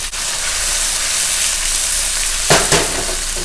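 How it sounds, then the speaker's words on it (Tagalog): Potatoes and red chili sautéing in a pan, a loud steady sizzle and hiss with a couple of sharp scraping stirs near the end and no talk. "Pagluto na yung patatas, ilalagay ko na po itong siling pula. Sangkutsahin na natin din"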